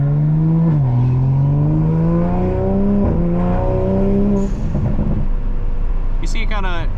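A 500 hp Toyota Supra pulls hard from inside the cabin, its engine note climbing steadily, then dipping abruptly at two quick gear shifts before climbing again.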